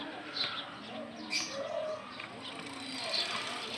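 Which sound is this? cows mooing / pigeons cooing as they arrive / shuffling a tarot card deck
pigeons cooing as they arrive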